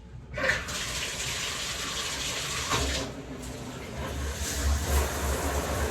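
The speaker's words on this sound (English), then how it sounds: "Taking a shower." A shower runs, its water spraying steadily with a close, hissing gush after an abrupt start and brief shifts in the flow, with no talking.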